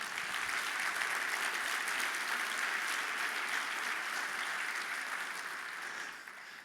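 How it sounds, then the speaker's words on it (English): An audience applauds at a TED talk. The clapping is dense and even, heard from some distance, and tapers off slightly at the end. "Give yourselves a round of applause, please."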